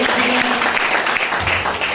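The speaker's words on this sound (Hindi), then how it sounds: "ताली जोरदार हो जाइए।" Audience applause at a motivational sales seminar, a dense wash of clapping hands filling the hall, loud and sustained for the whole short stretch.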